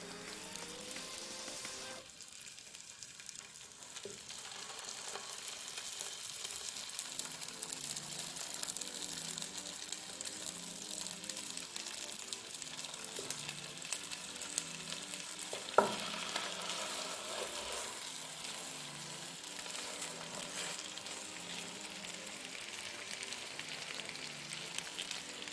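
Chicken drumsticks fry in melted butter in a pot, giving a steady, close sizzle with occasional stirring clatter and one sharp metallic knock partway through, with no talking.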